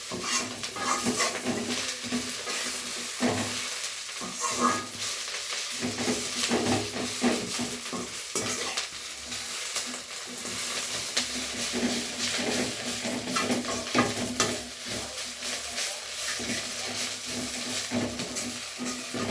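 Curry leaves frying in a pan give a steady sizzle, with a utensil scraping and stirring throughout. The hiss stays continuous and moderately close, and no one speaks.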